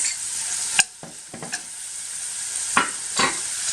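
Chopped onion, celery, leeks and diced carrots cook down in a pot for a fish chowder, giving a steady soft sizzle with a few sharp spoon clinks and scrapes against the pot, close and alone.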